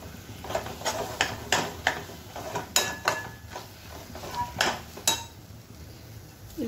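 Walnut halwa is stirred in a pan with cardamom powder, giving a steady rhythm of metal spoon scrapes and clinks against the pan at close range, repeating about every half second over a low background hum.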